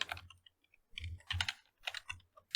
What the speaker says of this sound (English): Let's just try to type it in.